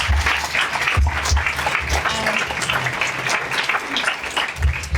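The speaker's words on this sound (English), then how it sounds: "I'm going to just give you a round of applause if you guys can" An audience claps steadily at the close of a panel discussion on IFRS 18 financial reporting, a dense, even round of applause sustained for several seconds with faint voices underneath.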